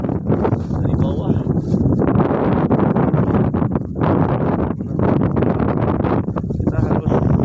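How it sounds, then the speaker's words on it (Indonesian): Steady wind rushes up the slope of Mount Kerinci, a continuous broadband roar that swells and dips in gusts over several seconds, loud and close against the microphone. "ini masih sangat terasa hembusan angin dari bawah"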